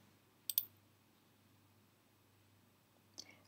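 Computer mouse clicking a button in SCADA software, two sharp quiet clicks spaced about three seconds apart over a faint steady hum.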